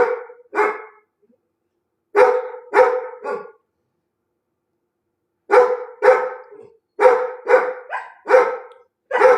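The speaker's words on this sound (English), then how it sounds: "The dogs are barking at me and I don't know what to do." Several dogs bark close by in sharp clusters of two to four barks, separated by short silences, loud and alone without voices.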